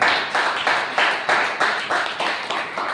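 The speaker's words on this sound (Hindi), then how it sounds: "तालियां होनी चाहिए इस बात" A church congregation in Ulhasnagar claps in unison, a steady rhythmic beat of about three claps per second, close and loud with no talking over it.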